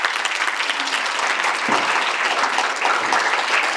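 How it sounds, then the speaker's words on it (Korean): Audience applause fills a lecture hall as a group chairman is welcomed onstage at a Seoul university talk, steady dense clapping throughout with no voices over it. "회장님을 큰 박수로 맞이해 주시기 바랍니다."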